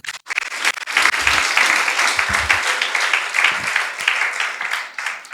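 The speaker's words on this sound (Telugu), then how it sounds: "చప్పట్లు కొట్టండి." A church congregation claps together during a sermon, a dense, sustained burst of applause lasting about five seconds after a brief pause at the start.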